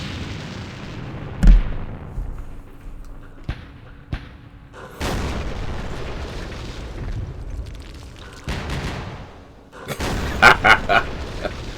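Rockets fire in the Campaign Series Vietnam war game at Dien Bien Phu, with sharp booming launches and blasts at intervals, a sustained rushing roar in between and a cluster of crackling impacts near the end.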